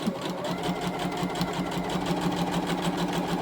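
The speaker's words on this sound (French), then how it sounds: "je vais faire un point d'arrêt. Et je couds" A sewing machine stitches a fabric scrunchie in a fast, even mechanical rhythm, running close and steady for the whole stretch, with no speech over it.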